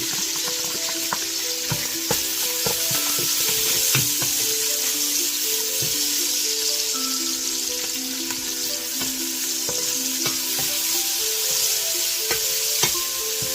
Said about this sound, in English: We're gonna add our garlic.